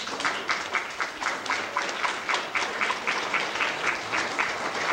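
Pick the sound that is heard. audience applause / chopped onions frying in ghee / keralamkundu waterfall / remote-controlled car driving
audience applause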